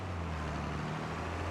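In the Farming Simulator 25 video game, a farm machine's engine runs at maximum RPM as a low, steady droning hum, fairly quiet and unbroken throughout the short moment.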